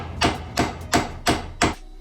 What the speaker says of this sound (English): all the tutorials say to smack the hell out of it with a hammer.